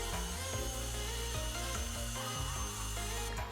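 A circular saw rips a straight cut through wood guided by a Kreg Rip Cut edge guide, making a steady, loud, continuous whine with a dense low motor hum for the whole stretch and no talk.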